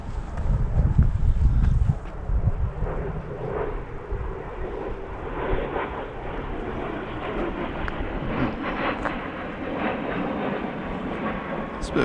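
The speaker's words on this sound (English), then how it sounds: "Private jet, and it was banking hard through the glens there." A private jet banks hard through a Highland glen in Scotland, its steady roaring engine and rushing wind noise sustained throughout, loudest in the opening seconds and then holding at a broad, even level.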